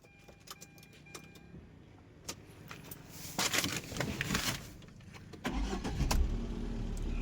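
Tata Zest 2015/16 petrol car starts on a single crank after a few clicks and key rattles, then settles into a quiet, close idle.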